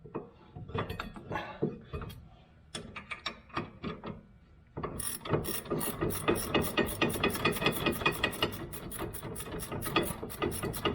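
A breaker bar loosens 14mm caliper bracket bolts on a 2000 Acura 3.2 TL during a rear brake job, with scattered close clicks and clunks and then a fast, steady ratcheting run.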